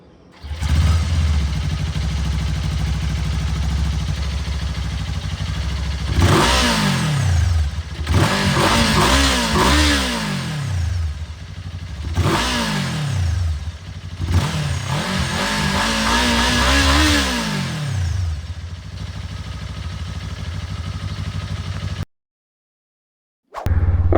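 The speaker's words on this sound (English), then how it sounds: "now we're ready to move into the exhaust notes segment. So let's flip it to that, and let's get a sound clip." A Kawasaki Z7 Hybrid motorcycle's exhaust revs in several sharp bursts, each rising and falling in pitch over a steady idle, close and loud, before cutting out briefly near the end.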